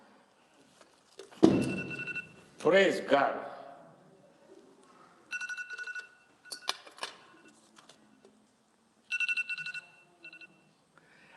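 A telephone rings in bursts of bright electronic tones during a church sermon, intermittent and moderately close, alternating with a preacher's voice speaking over the room.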